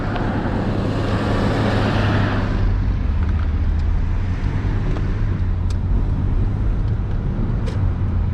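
A Hyundai Genesis Coupe 3.8 driving, with a steady low engine drone and tyre and road roar heard from inside the cabin, continuous and moderately loud.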